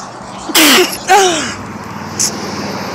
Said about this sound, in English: excuse me for a minute, about to sneeze